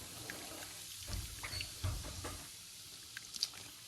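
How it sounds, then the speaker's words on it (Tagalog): Sprite poured over a kilo of chicken feet in a cooking pot, a soft, faint splashing patter with a few brief louder gurgles, heard alone. "Ilalagyan ko na ng Sprite."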